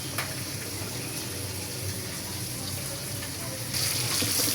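Leafy Malabar spinach being washed in water, a steady close splashing and trickling wash of water with a brighter, louder gush near the end.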